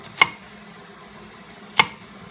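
A kitchen knife makes vertical slices through an onion on a cutting board: two crisp, separate chops about one and a half seconds apart, close and clear against a quiet room, with no talking.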